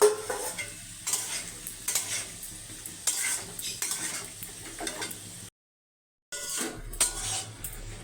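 Green jackfruit and potato being stir-fried in a pan, with a spatula scraping and clinking against metal in steady strokes over a soft sizzle, broken by a brief pause before the stirring resumes.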